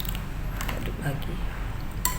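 Maksuba cake batter stirred in a bowl, with light clinks and scrapes of a utensil against the bowl, close and fairly steady, a sharper knock near the end.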